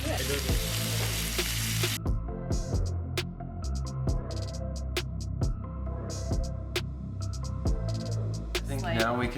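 Gluten-free mock meat breakfast sausages frying in an oiled pan, producing a loud, continuous close sizzle with crackling pops and faint stirring, under a low hum.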